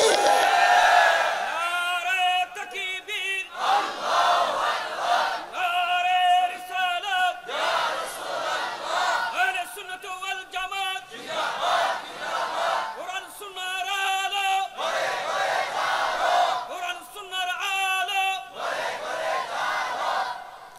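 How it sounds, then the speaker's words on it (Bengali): Crowd at a Bangla religious sermon chanting Islamic slogans in call and response, a leader's amplified call alternating with loud massed shouted replies in a steady repeating cycle. "নারায়ে রিসালাতের এই স্লোগান, নারায়ে গাউসিয়ার এই স্লোগান"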